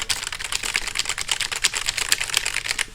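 A dense, fast clatter of keystrokes on a broken computer keyboard, continuous rapid clicking close to the microphone with no talking.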